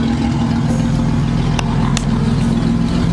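A V6 fourth-generation Camaro idles with no exhaust fitted, a loud, steady, raw engine drone with a rough low-end throb and a couple of brief clanks partway through.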